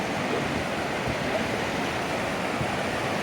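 Fast-running water rushes loudly and continuously in the Smoky Mountains, a dense broadband roar close by with no voices.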